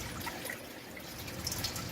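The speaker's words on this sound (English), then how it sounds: "I'm just going to go ahead and get some salt water in there and shake it out" Salt water sloshes and rattles inside a bottle as it is shaken out while stocking a Red Sea Reefer 350 aquarium. The noise is a continuous, soft, splashy wash with faint drip-like ticks.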